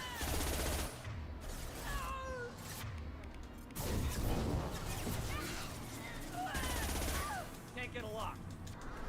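Weapon fire in the sci-fi video game Mass Effect: loud, dense bursts of gunfire repeat over nine seconds, mixed with electronic chirps and other busy game effects, with no one talking.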